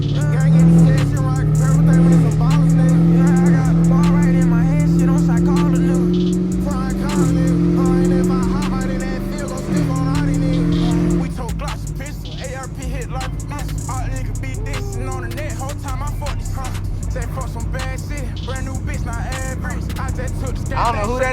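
A Chevrolet Camaro ZL1 engine drones loudly from inside the car as it drives, its pitch climbing steadily, then the throttle is lifted partway through and the engine falls back to a lower, rougher note. Voices talk over it.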